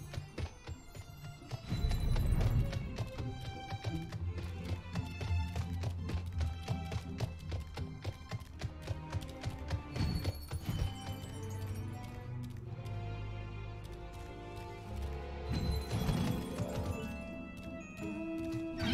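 Hoofbeats clatter at a gallop beneath a dense, loud orchestral soundtrack in Final Fantasy XIV Online, with heavy thuds and swells throughout.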